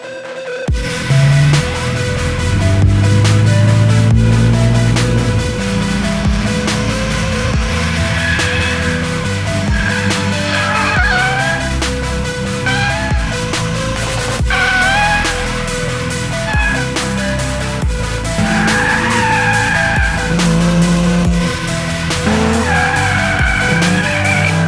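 A car drifting as its rear end breaks loose, tires skidding and squealing in long wailing sweeps over a loud, steady engine roar, close and continuous throughout with no talk.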